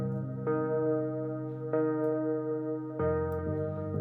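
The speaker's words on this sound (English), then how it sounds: "The main instrument on the track is this synth." Lead synth from a hip hop track playing sustained, layered chords that shift a few times, moderately quiet with no other instruments or voices.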